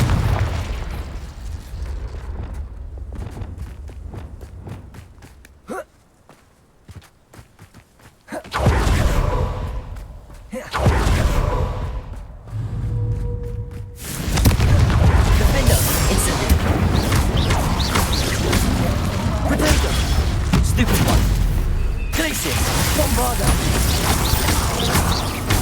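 Confringo explosive spell blasts in the Hogwarts Legacy video game, heavy booming bursts and whooshes mixed into busy combat noise, growing dense and loud in the second half, with speech over parts of it.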